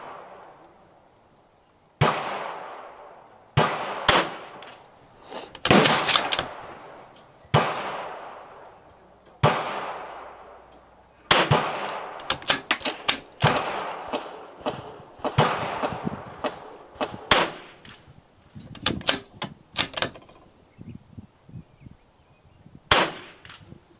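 Vudoo Three 60 rifle at a shooting range, a series of sharp, loud shots with ringing decays, spaced irregularly and sometimes in quick clusters, with quieter metallic handling between them.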